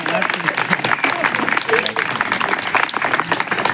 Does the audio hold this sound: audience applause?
yes